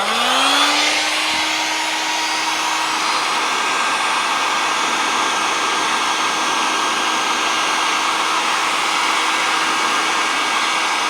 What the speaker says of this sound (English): Look at my heat gun.